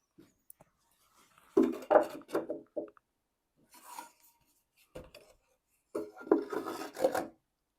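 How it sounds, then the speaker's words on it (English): Short bursts of a saw rasping through wooden boards, in a few uneven strokes separated by quiet pauses, close and fairly soft. "So I'm going to cut 2 boards 10 1/4 inches long."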